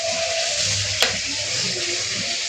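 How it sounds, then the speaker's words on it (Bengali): Chicken sautéing with spices in a pan for a Bengali chicken curry, a continuous close sizzle with a brief sharp clink of a utensil near the middle. "মশলা কষানো, এখন মাংস কষানো"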